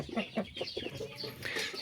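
A heavy champion-breed rooster of about 5 to 5.5 kilos, now thinner, clucks in several short, rhythmic bursts close by, with other farmyard chirps in the background.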